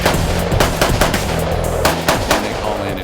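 Loud close rifle fire rings out at a memorial run-and-gun exercise, with several rapid sharp shots in quick bursts and echoing reports filling the outdoor range.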